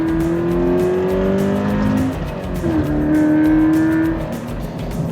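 A facelift Toyota GT86 drives along with a steady, loud engine drone and tire roar, the pitch rising gradually under acceleration, dipping at a gear change, then climbing again, with no talking.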